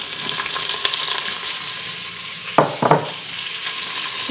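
Onions sizzle steadily as they are sautéed in a pot on regular heat, a close, loud hiss with a couple of sharp stirring scrapes partway through.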